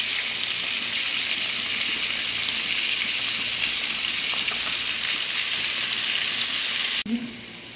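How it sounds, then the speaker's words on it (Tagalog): Garlic and onion sautéing in leftover fish-frying oil for a Filipino sarciadong isda sauce, a loud steady hiss and crackle of sizzling throughout, with a brief clatter of stirring near the end. "Nagisa na tayo ng bawang at sibuyas at dito natin siya ginisa sa pinagprituhan ng isda."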